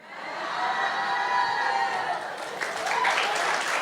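An audience at a Believers Youth Conference in Yangon claps steadily, a dense wash of applause with some cheering mixed in that stays strong for nearly four seconds.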